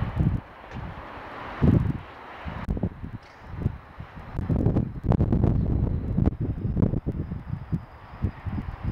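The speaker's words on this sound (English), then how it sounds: "That's gusty, gusty now it looks like it's doing like 45, like a blizzard kind of speed just then." Gusty blizzard-like winter wind during early-season snow flurries, roaring and buffeting loudly against the microphone in uneven surges with brief lulls.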